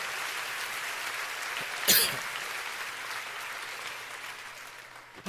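Church congregation at a worship service applauding, a steady moderate wash of clapping with a brief louder swell and a cough-like burst early on.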